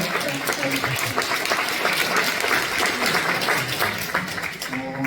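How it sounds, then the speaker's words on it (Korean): A church congregation at a March 1st Independence Movement Day prayer service applauding steadily for several seconds, dense clapping with a voice faintly audible beneath it. "우리 한번 박수 해주실래요?"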